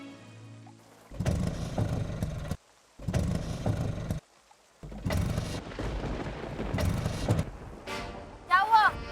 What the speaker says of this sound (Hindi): रिक्शा स्टार्ट नहीं हो रही है